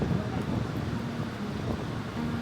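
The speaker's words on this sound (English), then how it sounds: "Very windy today, but we're going inside, so that'll be good." Strong wind roars steadily outdoors beside a lineup of people outside an arena in Edmonton, buffeting the microphone in a constant loud rumble with no pause.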